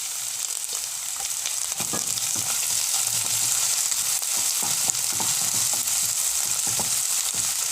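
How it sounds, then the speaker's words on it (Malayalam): Crushed ginger and garlic fry with onions in a hot pan, producing a dense, continuous close-up sizzle with soft, regular scraping knocks from the stirring spoon; no voices. "നല്ലോണം ഒന്ന് ഇളക്കി അതിൻ്റെ പച്ചച്ചവ മാറുന്നവരെ ഒന്ന് ഇളക്കി കൊടുക്കാം."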